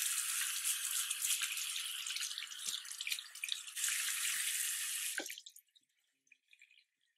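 Water runs steadily from a tap while a face is rinsed of cleansing oil and eyeliner, a dense splashing hiss with small drips and knocks that stops abruptly after about five seconds, leaving faint trickles.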